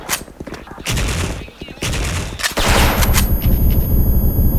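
Kriss submachine gun fire in the online shooter Special Force comes as loud, rapid automatic bursts in several close stretches, layered with other battle sounds and game effects.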